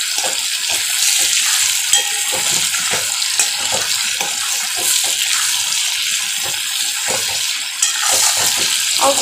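Chicken fries briskly in a pan as it cooks with soybeans, a loud, dense sizzle with a continuous spitting crackle and no talk over it.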